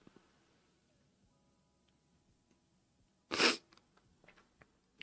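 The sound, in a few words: sneeze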